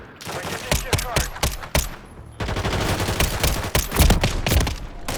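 Dense automatic gunfire from a weapon in Call of Duty Modern Warfare 3, loud, rapid bursts sounding almost continuously with a brief lull midway through.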